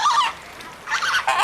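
A flamingo gives harsh, goose-like honking calls, two loud nasal bursts separated by a short pause, close and clear with no speech.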